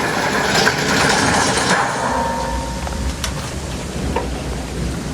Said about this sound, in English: let's see if it's still raining outside.